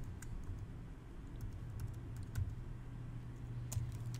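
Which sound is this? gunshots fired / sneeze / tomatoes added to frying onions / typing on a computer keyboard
typing on a computer keyboard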